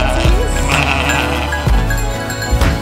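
Sheep in a vineyard bleat now and then over a loud, busy outdoor background, a few calls standing out with no talking in between.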